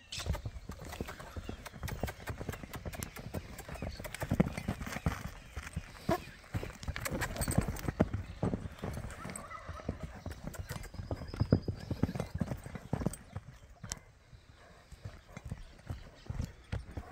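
A blue roan overo horse, a gentle ranch horse, trots with steady rapid clip-clop hoofbeats close by, a brief whinny rising at one point over outdoor background noise.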